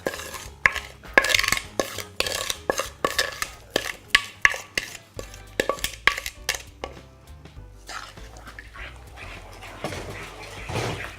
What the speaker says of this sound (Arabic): وغادي نبدا نخلط مزيان حتى غادي تجانس ليا جميع المكونات.